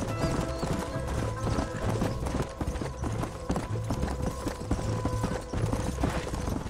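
Horses gallop at a hard pace in the Red Dead Redemption western game, with steady rapid clip-clop hoofbeats and a brief whinny over a dense, continuous music-and-effects bed throughout.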